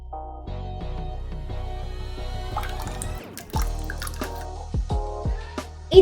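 Lemon juice is squeezed over ice cubes into a watermelon drink, making close, clear drips and small liquid splashes, with a few louder plops near the end.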